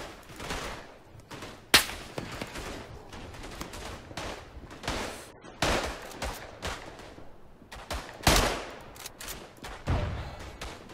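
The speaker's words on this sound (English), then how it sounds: "someone's shooting at me" Bursts of rifle and machine-gun fire crack out in a World War I battle in the game Tannenberg, a mix of near sharp shots and distant volleys arriving in irregular clusters, with no talk.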